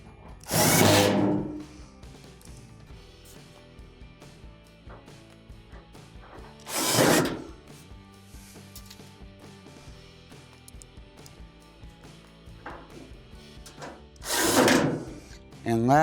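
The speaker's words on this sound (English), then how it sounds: "now we can just start screwing all of our screws in around the perimeter" A power drill drives screws around the perimeter of a gas dryer panel on an Amana dryer under repair, with three short, loud bursts spaced several seconds apart and quieter handling noise between them.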